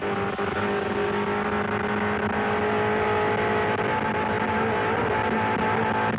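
A 1988 Asia-Pacific Touring Car Championship car runs flat out down Conrod Straight at Bathurst, heard from onboard as a loud, continuous engine drone at high revs with no commentary over it.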